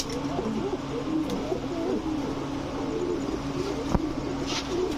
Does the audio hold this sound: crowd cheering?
no